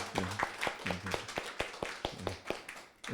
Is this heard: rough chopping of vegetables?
no